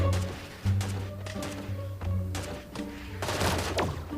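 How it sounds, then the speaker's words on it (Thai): Gunfire in the mobile shooter game Sausage Man, a few sharp shots and bursts over steady game music, moderately loud and close, with no talk. "มีคนยิงตอดมาครับ มีคนยิงตอดมาเจ็บนะเนี่ย"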